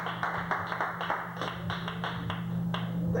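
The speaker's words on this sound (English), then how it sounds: "Thanks for the applause." A comedy club audience claps for a stand-up comedian, a thin scattering of hand claps over a steady hum, moderately distant and fairly quiet.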